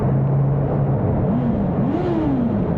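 A Honda CB650R E-Clutch motorcycle engine echoes inside a tunnel, holding a loud steady drone before climbing through two rising revs that swell and fall back.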